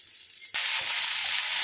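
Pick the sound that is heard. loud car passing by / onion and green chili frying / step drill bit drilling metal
onion and green chili frying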